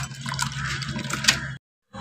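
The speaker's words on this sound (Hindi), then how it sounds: "केला को छील लिया और साफ पानी से इसको 2-3 पानी से धो लीजिएगा।" Peeled raw bananas being rinsed in clean water, with steady close splashing and sloshing throughout, a brief louder splash near the end, then a short silence before the water resumes.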